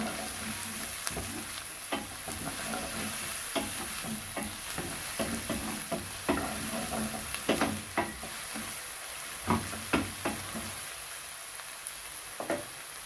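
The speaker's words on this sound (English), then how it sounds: "in the same oil, I've added my tomato and sorry, all onion" Chopped onions with tomato sizzle steadily in hot oil for a cabbage vegetable fried rice, a constant close frying hiss broken by irregular clicks and scrapes of stirring, with no voices.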